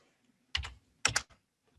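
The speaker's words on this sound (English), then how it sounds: "If you type status up here" A few short clusters of close, crisp key clicks on a computer keyboard, two distinct bursts with brief pauses between them, then a faint final tap, no voices.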